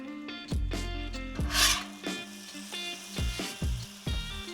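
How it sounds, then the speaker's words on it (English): Slices of pound cake frying in butter in a pan, giving a close, crackling sizzle broken by repeated low thumps and scraping as the pieces are moved and pressed, with no talking. "We're gonna fry it up in this butter good"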